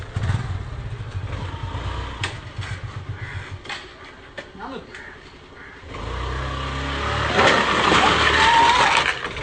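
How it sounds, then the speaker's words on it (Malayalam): A motorcycle engine chugs and revs during a wheelie stunt, pulsing low at first, dropping away, then swelling into a louder sustained roar near the end, with voices and scraping noises around it. "ഞാൻ വീൽ ചെയ്യാൻ പോട്ടെ"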